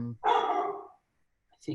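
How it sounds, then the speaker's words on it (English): A dog barks once in a drawn-out, close burst, then a voice speaks briefly afterward. "don't know how long this dog is going to bark for"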